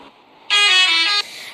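A single loud, sustained truck horn blast in the game Cargo Simulator 2021, lasting under a second, rising abruptly out of a quiet background and stopping just as suddenly.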